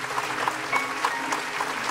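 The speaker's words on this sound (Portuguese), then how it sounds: "A igreja vai abençoar você com palmas agora." A church congregation at a worship service claps together in a steady rhythmic beat, roughly three claps per second, at moderate volume.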